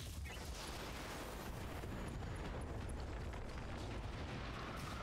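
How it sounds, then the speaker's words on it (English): Ammo explosion in the BattleTech video game: a dense, sustained roaring blast with crackling debris, loud and continuous across the whole stretch with no voices. "Oh, ammo explosion!"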